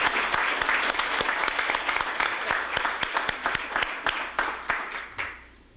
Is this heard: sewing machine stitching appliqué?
no